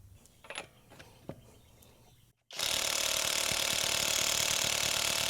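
Cordless SEESII WH760 impact wrench on its lowest speed straining against truck lug nuts: faint handling rustle, a brief pause, then an abrupt loud continuous hammering rattle for the last three seconds.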